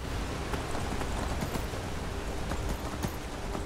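Horse hooves clip-clopping in Skyrim, a steady, even run of close hoofbeats over a constant hiss like rain.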